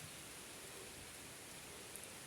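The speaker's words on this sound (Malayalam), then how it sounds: "മഴ പെയ്യുന്നു കേട്ടോ" Rain falls outdoors as a faint, even hiss with no distinct drops, steady from start to finish and heard alone without voices.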